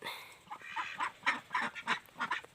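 Six ducks being fed on a rural farm in the morning quack in a series of rhythmic, fairly faint honking calls, heard alone without talk.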